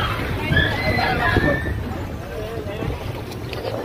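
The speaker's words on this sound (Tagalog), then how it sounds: "nakasakay na kami ng bangka" A boat moves over water with engine rumble and splashing, while people chatter in the background.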